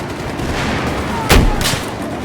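Frag-round gunfire in a video game, one or two sharp loud shots bursting over a steady dense background of game noise, no talk heard.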